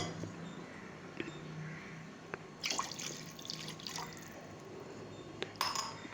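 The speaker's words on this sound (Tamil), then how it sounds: "அதுக்கப்புறம் 1 டம்ளர் அதே அளவு வாட்டர் ஆட் பண்ணிக்கலாம்" Water is poured into a pot of milk on the stove while masala tea is made at home, giving soft splashing and trickling with a few clinks of a glass, at close range with no talking.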